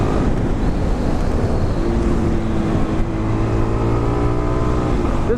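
A Suzuki DRZ400 motorcycle engine pulls hard under a wide-open throttle while being ridden, its rising drone climbing in pitch through the gears, with heavy wind buffeting the microphone throughout.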